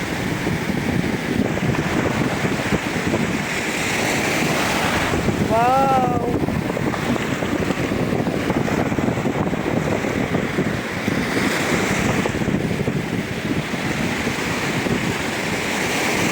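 Steady roar of sea surf in strong wind buffeting the microphone throughout, waves washing in continuously on an Italian shore, with a brief exclaiming voice partway through.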